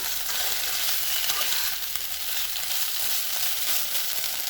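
Spice masala frying in a little oil for Bengali shukto, a loud, dense, continuous sizzle with stirring noise running without pause and no voices.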